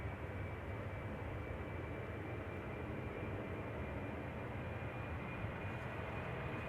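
A KLM Embraer jet departs runway 36L, the Polderbaan, at Amsterdam Schiphol Airport in showery weather, heard as a distant, steady low engine roar and rumble with no talking.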